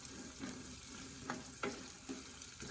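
Carrot pieces fry quietly in a pan for a homemade vegetable haleem, a soft steady sizzle broken by a few sharp scrapes as a spoon stirs them, with no talking.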